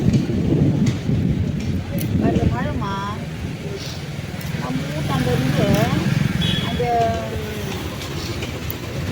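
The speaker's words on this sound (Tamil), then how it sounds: "மழை மழை எல்லா இடத்துலையும் மழை பெய்யுது" Heavy rain and rumbling thunder at a seaside fish market, a dense steady roar filling the whole clip with voices and market chatter over it.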